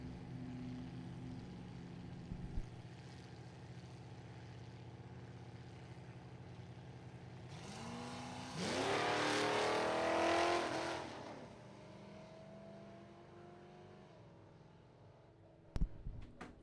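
Drag race cars launching down the strip at a Super Pro, Pro Eliminator, Sportsman and Street event, with a loud engine roar building and sustaining for several seconds mid-clip, then fading, and a sharp bang near the end.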